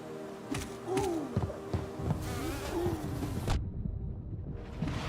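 Small bees in the Hollow Knight video game buzz with a thin, wavering drone over steady background game music, holding for a few seconds before cutting off abruptly.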